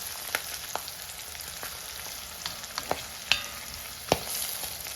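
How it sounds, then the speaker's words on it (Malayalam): Green chillies and other ingredients for a Kerala-style tomato curry sauté in a pan, giving a steady low sizzle broken by a few sharp clinks and scrapes of stirring, with no voices. "പച്ചമുളകും ചേർത്ത് നന്നായിട്ട് വഴറ്റണം. എല്ലാ സാധനങ്ങളും നന്നായിട്ട് വഴറ്റണം."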